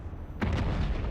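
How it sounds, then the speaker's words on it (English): A grenade detonates in the video game Dune Awakening, a sudden loud boom that cuts in after a quiet stretch and is followed by a rumbling tail. "Grenade."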